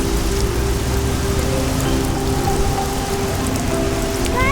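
Steady rain pours down in Singapore, a dense, even hiss of drops hitting surfaces nearby, loud and constant with no voices.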